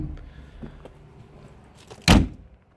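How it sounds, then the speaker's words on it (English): A heavy cab door on a restored Massey Ferguson tractor swings shut with one loud, solid thud after quieter handling noises, close by. "big old heavy doors."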